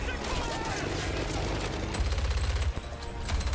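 An MG44 machine gun fires in Company of Heroes 3, a loud, continuous rapid rattle with faint game effects and a quiet voice underneath.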